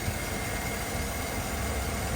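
A 2012 Chevrolet Silverado extended-cab 4x4 with a 5.3-liter V8 and 152k miles idles steadily with the hood open, producing a smooth, even, continuous hum with no voices.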